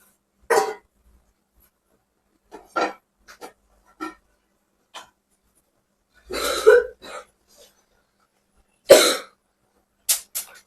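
A person with a cold coughs in short, separate bursts spread across several seconds, some single and some in quick pairs, close by in an otherwise quiet room.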